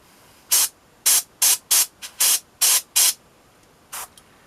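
Rapid bursts of aerosol spray paint hitting a Blood Angels Death Company Jump Intercessor miniature, about eight short sharp hisses in an even rhythm, close and loud, then one last burst after a pause.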